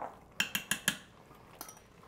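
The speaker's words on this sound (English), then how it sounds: "And we're just gonna stir it up." Chili paste being stirred into ground beef keto chili in an Instant Pot: four quick metallic spoon clinks against the pot in a steady rhythm, then one softer knock, close and clear with no talking.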